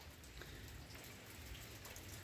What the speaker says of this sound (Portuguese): Semana passada passou 2 dias também chovendo bem e hoje do mesmo jeito.